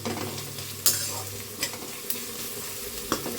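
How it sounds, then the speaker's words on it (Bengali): Onions frying and being stirred in a pan, with a steady close sizzle broken by several sharp scrapes and clinks of the spatula, and no voices. "তো পেঁয়াজটা এবার ভাজা ভাজা করছি।"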